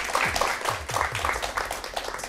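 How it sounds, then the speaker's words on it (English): Applause from a quiz-night audience: a brief, moderately faint patter of clapping that runs steadily throughout, with faint voices murmuring underneath. "Give them a round of applause."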